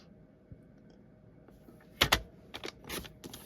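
A paper trimmer cuts paper at the 4.5 inch mark: a quiet stretch, then a sharp slicing scrape and a few clicks and rustles of the blade and paper, close and clear.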